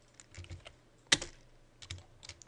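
Someone types a short command on a computer keyboard, producing a quiet burst of close clicking keystrokes with one firmer tap, likely the enter key, in a calm room.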